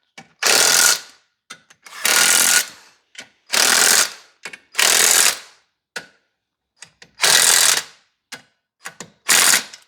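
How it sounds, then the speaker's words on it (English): Hand ratchet tightening clutch pressure plate bolts in a diagonal pattern, close and loud, in bursts of rapid clicking with short pauses between bolts. "Next we got our ratchet. And the diagonal pattern."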